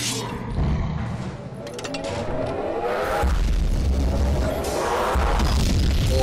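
Heavy booming blasts and rumbling roars from an animated Skibidi Toilet battle as toilets are blown up, loud and continuous with deep low-end impacts, mixed with a voice talking over the action.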